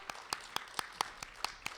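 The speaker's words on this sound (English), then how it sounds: "Give him applause." Scattered, sparse clapping from a small audience at a poetry open mic night as a performer walks to the stage, about eight separate distinct claps spaced evenly and fairly faint.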